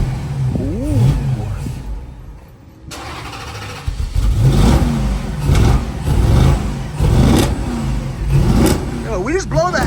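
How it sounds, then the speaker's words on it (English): A Dodge SRT V8 engine treated with Seafoam cranks, catches and revs repeatedly in loud, surging bursts nearby, with people talking and exclaiming over it. "we got Al about to crank this thing up"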